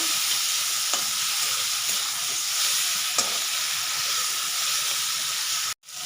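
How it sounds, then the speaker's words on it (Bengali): Prawns frying in hot oil in a village-style kitchen, a loud, even hissing sizzle with a few faint crackles, cutting out sharply just before the end. "তেলের মধ্যে করে ভেজে নেব"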